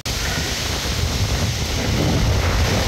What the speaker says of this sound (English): And this wind is getting strong.